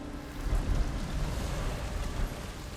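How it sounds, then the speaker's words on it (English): Rain pours steadily during a thunderstorm in the video game Ghost of Tsushima, a dense continuous wash with low rumbling underneath and no voices. "It is raining and there are thunderstorms everywhere."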